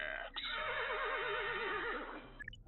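A horse presented as Shadowfax, Gandalf's horse, gives one long, loud, wavering neigh that rises and trembles before trailing off, heard alone and close.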